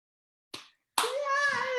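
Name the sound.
person clapping hands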